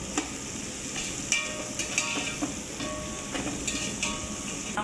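Onions sizzling in hot oil with salt and four green chillies while cooking for homemade chicken biryani, a steady close frying hiss with occasional sharper crackles and stirring clinks throughout.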